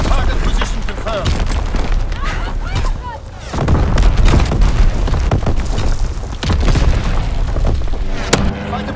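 An artillery barrage rains down in Call of Duty: WWII, with repeated heavy booms and crackling blasts rolling one after another under voices and steady game noise.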